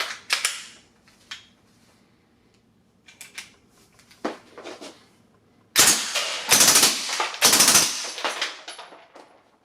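S&W Model 76 submachine gun firing 140 grain subsonic ammo from converted Suomi M31 magazines at a range, several loud close bursts of rapid automatic fire separated by short gaps, with the longest bursts near the end.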